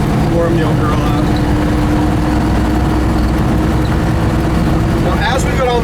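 Engine of a 1958 Chevy Apache pickup warming up with the choke pulled, a loud steady low idle rumble running throughout while someone talks over it.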